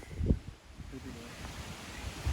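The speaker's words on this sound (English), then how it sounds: "Oh, it's windy out here. Wow, isn't it breezy?" Wind buffets the microphone in low, gusty rumbles on the Appalachian Trail, with a stronger blast near the start and again at the end, steady and close throughout.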